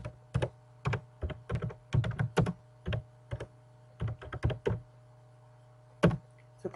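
Bursts of computer keyboard typing, clusters of quick keystrokes with short pauses between, close and fairly quiet, with no talking over them.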